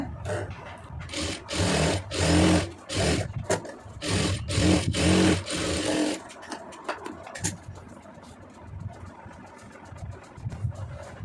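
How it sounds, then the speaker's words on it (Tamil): A sewing machine stitches the neckline of a lined star-neck blouse, running in several loud bursts of steady whirring during the first six seconds before it stops and only faint background sounds remain. "இதில் வந்து தையல் போட்டுருங்க"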